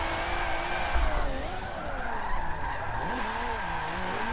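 Forza 7 car drifting with a Logitech G920 wheel, its engine droning steadily with rising and falling pitch while a high tire screech runs through most of the stretch, loud and continuous.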